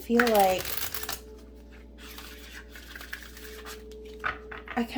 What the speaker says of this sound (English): let's get a final card and see what the Wisdom of the Fairy Oracle has to say